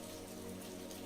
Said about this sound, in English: the cool droplets of rain kissed his cheeks